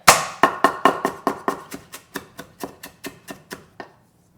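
A knife chops green onion and ginger on a cutting board in a steady run of about fifteen sharp, close knocks, evenly spaced and gradually softening before stopping, with no talking.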